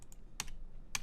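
A handful of crisp clicks from a computer keyboard as the tilde key is pressed, a couple of faint taps followed by two sharper keystrokes about half a second apart, close and alone.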